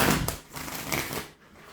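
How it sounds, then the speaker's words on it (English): Tarot cards being shuffled by hand during a card reading, a soft continuous rustling and riffling close by, with a few slightly sharper snaps and no talking. "All right, last shuffle, y'all."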